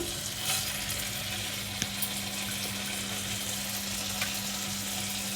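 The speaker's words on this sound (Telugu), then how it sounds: "ఆవాలు చిట్టుపట్టలు అనేద్దాము" Mustard seeds, cumin and dry red chilies splutter in melted butter with a steady, moderate sizzle and a few sharp pops, close and without voices.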